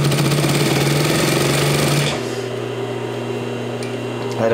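Vintage 1949 Singer 214-12 industrial sewing machine running fast, a loud dense whirring rattle that winds down after about two seconds to a lower steady motor hum.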